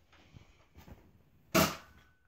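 A toy dart gun sniper fires once with a sharp, loud snap and a short burst of air, after quieter handling noises and faint background voices.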